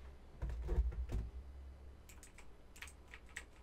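Keys clatter on a gaming keyboard in short bursts, a dense cluster early on and then lighter, scattered taps, fairly close against a low steady hum.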